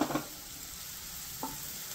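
Diced onion and garlic in hot oil in a pan for mutton fry, a soft steady sizzle close by, with a couple of brief clinks or scrapes at the start and midway, fairly quiet and without speech.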